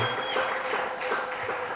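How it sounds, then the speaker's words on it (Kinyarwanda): A church congregation at a wedding service claps together, a dense, sustained round of applause close by filling the whole moment, with faint voices mixed in. "Dukomere amashyi menshi cyane"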